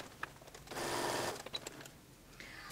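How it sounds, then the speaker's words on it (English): Faint sewing machine stitching a gathering line on a camisole, a quick rattling run of under a second amid quiet room noise and small clicks. "I'm gonna move the needle all the way over to the right, and I'm gonna do one more line of stitching."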